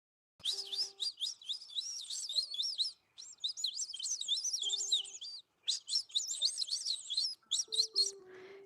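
A person with braces imitates bird chirping, producing rapid, high, twittering trills in three bursts with short pauses, close and clear, with no other talk.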